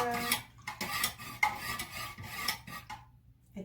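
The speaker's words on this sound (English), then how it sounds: "you just want to stir it for about 20 seconds" Melted soy wax being stirred for handmade candles, a quiet series of scraping, clinking strokes of a utensil against a pot, irregular and close, with short pauses between strokes.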